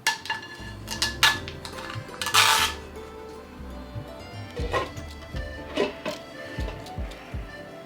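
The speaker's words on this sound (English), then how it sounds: "It's a granite cooking set of 2 pans and kadai." Granite cookware, a set of two pans and a kadai, being handled: a series of sharp metallic clanks and clinks at irregular intervals, close and fairly loud, with no talk.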